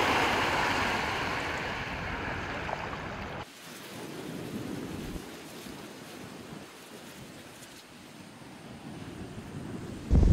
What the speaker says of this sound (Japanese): 川上から河口に向かって濁流が流れ込んでますね